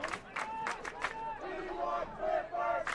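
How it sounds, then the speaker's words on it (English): Football crowd in the stands at a West Texas A&M versus St. Mary's game, a steady roar of fans with rising shouts and cheers, carried under a commentator's voice talking throughout. "And you can hear the fans down below as they're enjoying that one."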